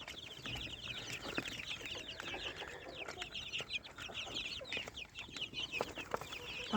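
A group of about 33 young vaccinated Fayoumi chicks peeps continuously in a rapid, overlapping chorus of high chirps, fairly close and with no talking.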